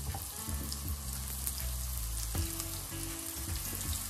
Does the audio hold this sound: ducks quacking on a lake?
no